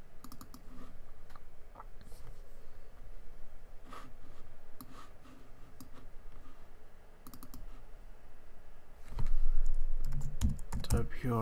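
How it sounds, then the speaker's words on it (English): Typing a password on a computer keyboard: bursts of quick, close key clicks, with a louder thump and shuffle near the end. "Type your password."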